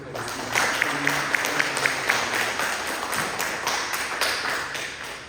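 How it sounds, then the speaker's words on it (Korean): A church congregation claps in thanks after a sermon, with sparse individual hand claps and taps standing out over a soft wash of applause, moderately loud and fairly close. "우리 한번 다시 박수로 우리 목사님께 감사를 드리도록 하겠습니다"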